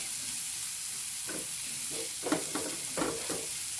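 Ingredients sautéing in hot oil in a pan while making Malayalam kottappam, a steady close sizzle with several short louder bursts as the food is stirred, no voices.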